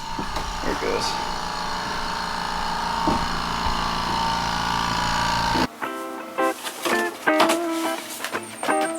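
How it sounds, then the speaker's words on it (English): An air compressor, kicking on after an inverter is switched on, runs with a loud, steady broadband roar that cuts off abruptly after about five and a half seconds, leaving scattered tool clatter and knocks. "We should hear the air compressor kick in a second."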